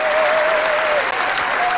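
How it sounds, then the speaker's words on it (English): A Republican political rally crowd bursts into loud, sustained applause and cheering, a dense wall of clapping with a whistle cutting through. "the entire Republican crowd goes insane"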